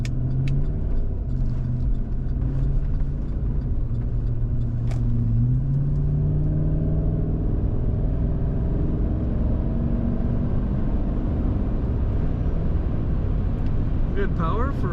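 A 2008 Cadillac Escalade AWD SUV with about 125,800 miles driving on the road, its engine rumbling low and steady with gear changes shifting the tone, under someone talking throughout.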